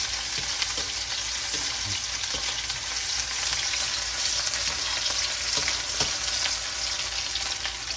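Food frying in a pan, stirred now and then, a steady close sizzle with faint scraping clicks throughout, no talking.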